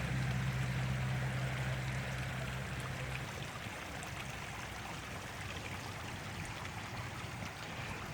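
A small waterfall spills from the main pond of a Japanese garden, a steady rushing trickle close by, continuous with no voices.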